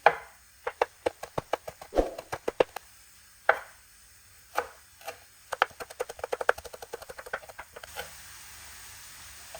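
A knife strikes a cutting board in quick, uneven bursts while green and red chilies and coriander are chopped, giving sharp close taps with short pauses between runs.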